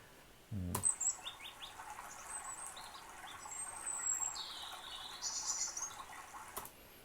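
Faint bird chirps and tweets added as sound effects in a free app, scattered short calls over a low ambient background, quiet and without speech.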